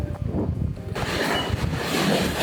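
Steady, loud wind by the Baltic Sea in Poland roars and buffets the microphone, a broad rushing noise that thickens halfway through, with no voices.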